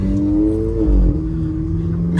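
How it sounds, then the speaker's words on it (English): A VW Jetta with an open, less restrictive air intake revs briefly, with a deep induction growl and a rising, then falling turbo whine, loud and close. "the noise itself, like the induction and turbo noises, are fantastic"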